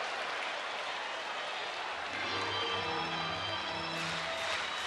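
Rangers fans in a packed Texas baseball stadium roar and applaud in a steady, dense wash of crowd noise during a night game against Oakland, swelling louder around the midpoint with tonal shouts and chanting voices layered in.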